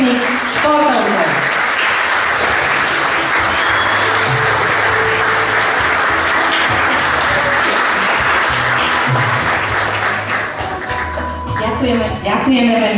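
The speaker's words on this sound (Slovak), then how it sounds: "Poprosíme o spoločnú fotografiu, o veľký potlesk pre týchto našich úspešných športovcov." An audience at a ceremony honouring a town's most successful athletes breaks into loud, sustained applause lasting over ten seconds, thinning toward the end, with voices mixed in.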